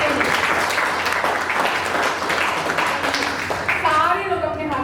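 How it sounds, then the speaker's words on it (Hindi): A seminar audience of Ontario-trained personal support workers claps loudly in a brief, full burst of applause, with a voice briefly audible near the end. "1 सेकंड के लिए जोर से तालियां बजाएं,"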